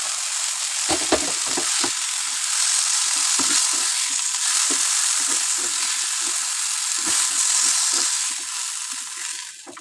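Tangra fish frying in hot oil in a pan, a dense close sizzle running steadily throughout, broken by scattered crackles and spatters and the occasional scrape of stirring, easing slightly at the very end.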